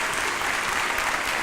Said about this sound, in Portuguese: Primeira coisa, uma salva de palmas para vocês.